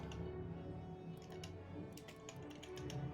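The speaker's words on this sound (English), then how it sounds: "I'm just typing up." Clicky keystrokes on a computer keyboard during a tabletop role-playing session, a quiet steady patter of small taps with irregular bursts, heard alone against a low room hum.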